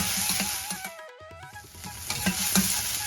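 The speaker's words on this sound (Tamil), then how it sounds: "அதோட 4-5 கருவேப்பிலையும் போட்டு அதையும் சேர்த்து வதக்கிக்கிறேன்" Green chillies, slit, and a handful of curry leaves sautéing with onions in hot oil for Chennai vada curry, a steady close sizzle with stirring scrapes, briefly dipping quieter mid-way before the frying noise returns.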